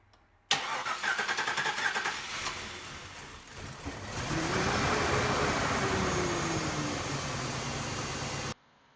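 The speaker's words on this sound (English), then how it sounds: "Let's go ahead and start up the vehicle and wrap this up." A Chevy Trailblazer 5.3L engine cranks with a whirring starter after fuel injector replacement, catches, and settles into a steady running rumble, close by, then cuts off abruptly.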